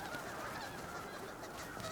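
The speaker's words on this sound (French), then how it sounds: "au milieu d'une colonie d'oies des neiges" A dense chorus of many snow geese honks continuously in the distance, a steady overlapping clamor with no gaps, from a large colony on the Taimyr Peninsula.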